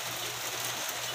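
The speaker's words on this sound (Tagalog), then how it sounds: "Pag ganito malakas ang ulan, kadalasan bumabaha pero hindi naman ganito kalaki." Heavy rain falls steadily during a flood in Parañaque, a continuous broadband hiss that stays close and loud for the whole moment, with no voices over it.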